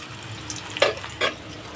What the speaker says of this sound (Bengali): এই যে মরিচ পেঁয়াজ ভাজা হালকা হয়ে গেছে